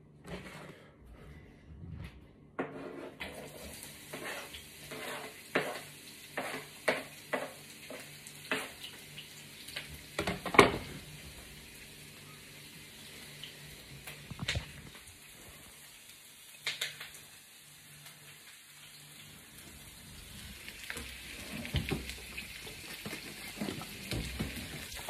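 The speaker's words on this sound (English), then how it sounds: "start sauteing the garlic and the onions. We're gonna do onions first" Onions sizzle and fry in a wok with a steady hiss, while a spatula stirs and scrapes in irregular knocks and clacks throughout, close by.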